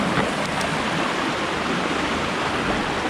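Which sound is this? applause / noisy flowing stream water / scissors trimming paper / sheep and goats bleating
noisy flowing stream water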